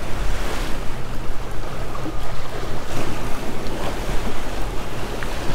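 Lake Saint Clair waves slap and wash steadily against the hull of a Bass Tracker 190TX boat under gusting wind, with a continuous rough rumble of water and no voices.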